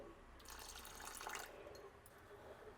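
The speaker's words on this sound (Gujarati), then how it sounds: "બંને પાણી એબ્ઝોર્બ કરશે એટલે થોડું વધારે પાણી ઉમેરી રહી છું." Water is poured into instant potato dhokla batter made with semolina and rice flour, a short, close splashing trickle that swells and fades, with no one talking.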